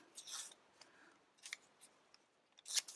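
Scissors snipping through layers of card, a few close, quiet crisp cuts spaced unevenly over a few seconds, with faint rustle between and no talking.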